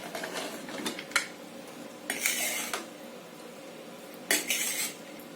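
Metal clatter from opening a pressure cooker and stirring chicken biryani inside: a few sharp clinks and scraping bursts of spoon against the pot, close and fairly quiet, separated by short pauses.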